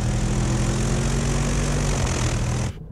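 A Mercedes G63 AMG or Range Rover Sport SVR engine roars steadily at high revs in a muddy tug of war, a loud continuous droning rumble that drops away abruptly near the end.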